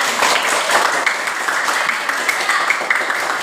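A class or group at an Indonesian teacher-training session claps along after singing, a dense and steady patter of many hands close by, loud and unbroken throughout.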